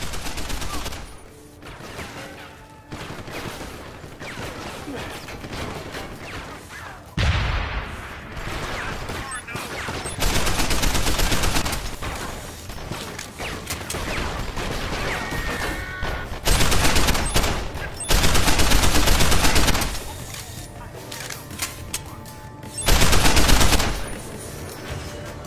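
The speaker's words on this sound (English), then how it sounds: "An upgrade on our combat rifle allows our bullets to curve and seek targeted enemies." Rapid bursts of combat rifle gunfire from the game Deus Ex: Human Revolution, with upgraded target-seeking bullets, fire in loud repeated volleys between brief pauses, set over game music and effects with occasional talk.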